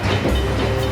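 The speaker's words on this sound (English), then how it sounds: "boarded the train to Calcutta" Steady low rumble of a train with faint clattering, standing in for a train departing for Calcutta in a storybook setting; a continuous, loud mechanical drone with no voices.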